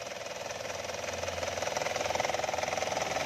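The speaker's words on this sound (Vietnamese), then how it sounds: "máy móc đang hoạt động, nổ êm ái vô cùng, êm ru" Isuzu 2.5 diesel engine idling smoothly, a steady rhythmic knocking chug with even pulses, close and continuous, growing slightly louder toward the end.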